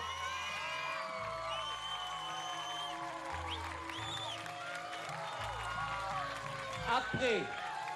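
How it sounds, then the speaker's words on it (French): Audience applause for a contestant at the Miss Tahiti 2008 pageant, a steady crowd clapping with some cheering that runs beneath music and voices. "On l'applaudit quand même, s'il vous plaît."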